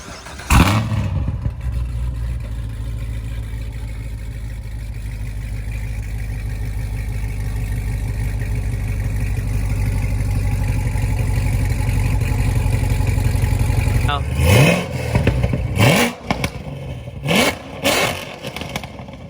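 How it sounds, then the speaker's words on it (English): A modified Corvette C7 Z06 idles with a deep, steady rumble for a long stretch, building slightly louder, then blips its throttle in several sharp, loud revs near the end. "I'm sure you guys want to hear this car and see how it drives"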